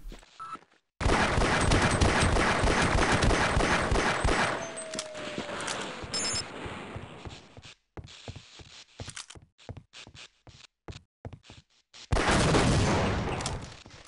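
Automated turret gunfire from Half-Life: Opposing Force: long, loud bursts of rapid shots, then scattered single reports and short volleys, ending in another heavy sustained burst.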